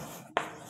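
A pen or pencil makes one brief handwritten stroke on paper during a Class 5 arithmetic lesson, a quick close scratch in an otherwise quiet room.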